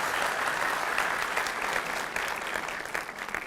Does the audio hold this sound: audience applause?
yes